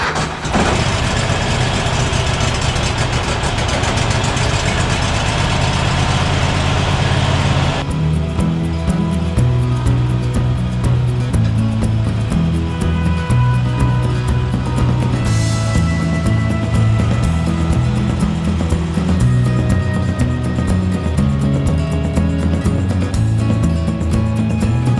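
A Husqvarna zero-turn mower engine runs steadily and warms up, a loud continuous low rumble with a harsher opening few seconds before settling into an even idle, with no talking.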